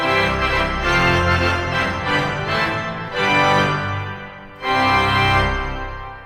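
A large 121-rank pipe organ in Washington DC plays loud sustained chords with a brassy, blaring festival trumpet stop, phrases swelling and pausing briefly between them.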